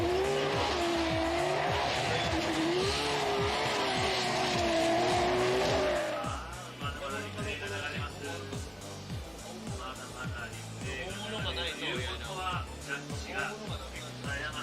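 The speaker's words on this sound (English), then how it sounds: "the left side of Kohashi's car making contact to the wall after the bump from outer zone 2 to that outer zone 3" Formula Drift Japan cars on the Okayama International Circuit, loud revving engines and squealing tires through the first six seconds, then a rougher, quieter stretch of engine rumble and skidding as a car scrapes along the wall, with commentary over it.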